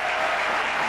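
Brief, dense clapping from a church congregation at a mothers' prayer meeting, a short continuous burst heard alone.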